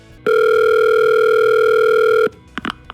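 A telephone call is placed with a loud, steady dial tone that holds for about two seconds and then cuts off, followed by a few faint, brief keypad-like beeps.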